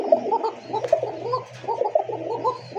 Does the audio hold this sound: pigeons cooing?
yes